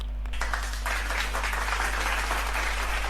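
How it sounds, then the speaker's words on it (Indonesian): A Discord group chat segment wraps up with a steady wash of clapping from a small group, continuous and even for a few seconds with no talk over it. "Kita tepuk tangan dulu untuk akhir dari segmen"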